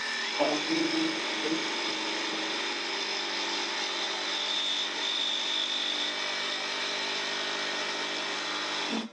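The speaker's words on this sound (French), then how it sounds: "Donc toujours quand vous allez attaquer à couper votre tuyau, commencez toujours tout doucement." A Bosch power tool fitted with an expert blade cuts through a pipe, a steady close grinding whir held without a break for about nine seconds before stopping abruptly.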